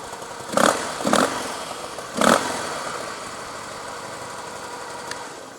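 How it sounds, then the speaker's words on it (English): A 2013 Harley-Davidson CVO Breakout motorcycle engine gives three sharp, close throttle blips in quick succession, then settles into a steady, rumbling idle. "how does it sound when it starts?"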